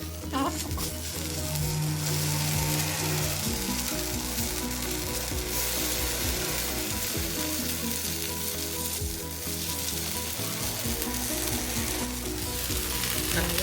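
Black kavuni rice paniyaram batter cooks in a paniyaram pan with a loud, continuous sizzle and crackle of hot oil, with a low steady hum beneath it.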